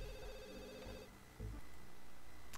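A telephone rings inside The Sims 2, a steady electronic ring with bright tones that stops partway through and leaves game sounds and music behind it.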